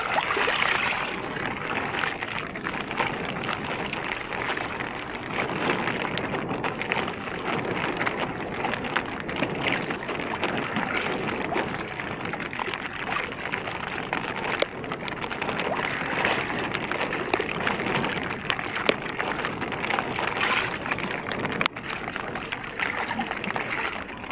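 Waves and rain surround a small boat on the water, with a constant wash of splashing and sloshing, fairly quiet and uneven, and no clear talking.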